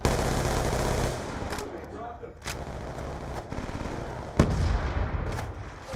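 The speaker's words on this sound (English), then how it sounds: "This gun shoots really fast." An SMG in a video game fires rapidly, loud and dense bursts layered over constant game noise, with a sharp louder report near the end.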